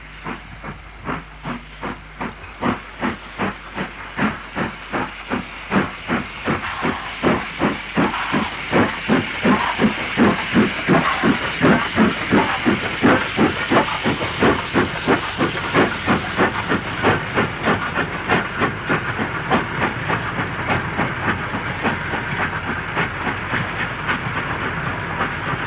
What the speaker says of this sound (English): 45435 heads south through the station with a freight from Whitehaven